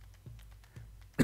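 A few soft coughs close to a microphone, two muffled throat-clearing bursts followed by a louder, sharper cough at the end, with no talking.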